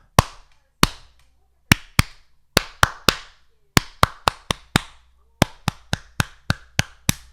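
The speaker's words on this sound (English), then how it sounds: "Clap them forward." Close, dry hand claps ring out one at a time in a syncopated rhythmic pattern, about twenty sharp strikes with brief gaps and quick clusters, each with a short echo tail and no talking.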